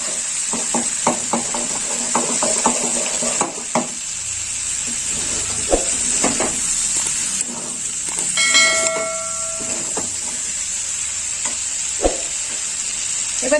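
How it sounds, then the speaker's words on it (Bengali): Mixed vegetables frying in ghee in a pan, a constant close sizzle and hiss with a spatula repeatedly scraping and tapping the pan in irregular bursts, and a brief metallic ring partway through. "1 চামচ ঘি দিয়ে দিলাম। একটু নেড়ে চেড়ে নেবো।"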